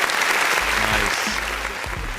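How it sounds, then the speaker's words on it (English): An audience at a hip-hop event celebrating a DJ champion claps steadily in a dense, roomy wash of applause, with low thumps and a voice faintly underneath. "give him some actual physical applause, though."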